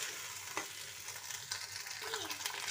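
Peas cooking in a pan for mater paneer, a faint, continuous sizzle with light stirring clinks and scrapes, no talking.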